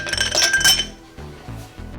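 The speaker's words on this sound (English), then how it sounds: "We're going to put in some fresh ice in there." Fresh ice cubes drop into a serving glass for a club-soda-topped cocktail, giving a quick run of bright, close glassy clinks and rattles, then a few lighter settling knocks.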